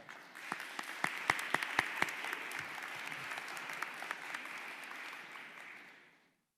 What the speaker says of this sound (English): How about an applause?